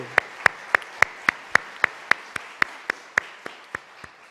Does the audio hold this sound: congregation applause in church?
yes